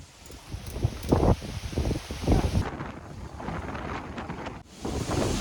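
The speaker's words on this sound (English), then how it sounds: "the wind is coming from this side" Wind gusting over a sailboat in the Caribbean during hurricane season, buffeting the microphone with a loud, rushing roar that swells and eases in uneven gusts, briefly dropping away near the end before surging back.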